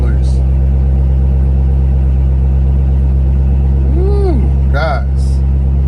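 A car engine idles loudly and steadily at a dealer auction, a constant low rumble heard close by, with a person talking over it and a brief squeak near the end.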